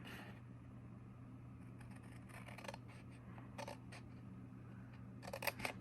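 Scissors cut a corner out of card stock for a Stampin' UP! bookmark card, a few faint crisp snips scattered over a constant low hum, with a brisker cluster of cuts at the end.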